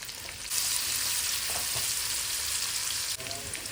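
Chopped onion hits hot oil already holding cumin seeds in a pan for khichuri, and a sudden loud sizzle rises to a steady, close hiss that carries on alone with no voices.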